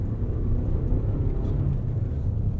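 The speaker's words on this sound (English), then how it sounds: "You can hear the throttle kind of being feathered there." Engine and road rumble from a 2021 Toyota RAV4 Prime XSE driven in winter conditions, a steady low drone that stays fairly loud throughout as the throttle is lightly modulated, with no talking.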